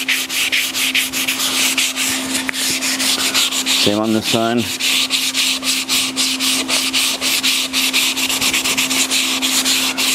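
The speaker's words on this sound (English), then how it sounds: "On that curve, it's very hard to sand" Steady hand sanding of a wooden chair's curved edges, a continuous close scratchy rubbing that runs throughout, with a brief spoken phrase partway through.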